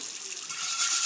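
Tap water running over a cast iron pan as it is rinsed, a close, steady hissing splash lasting about a second, with no voices.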